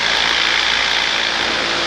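Steady, loud engine drone of a light aircraft in flight, a continuous broadband roar with propeller hum filling the whole stretch without pause or voices.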